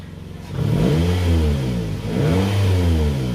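A Toyota car engine revved during Techstream diagnostic checks of the oxygen sensors, rising from idle to two loud, close revs that swell and dip, with no talk over it.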